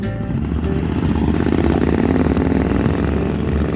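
A motorcycle engine drones steadily while riding on a moto camping trip, a loud continuous rumble with no breaks or voices.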